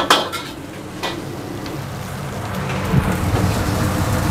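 Plates, trays and cutlery clatter in a busy restaurant kitchen during lunch service, with a few sharp clinks near the start and a steady background bustle throughout.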